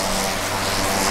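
An agricultural airplane's engine and propeller drone loudly and continuously at close range, a steady rough roar with no break or voices.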